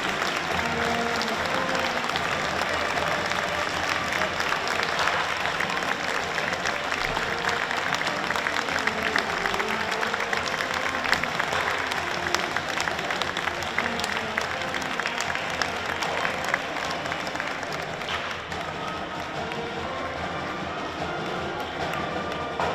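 Sustained applause fills a hall at a high school distinguished alumni ceremony, as a large audience claps steadily and densely without pause for over twenty seconds before tapering slightly near the end.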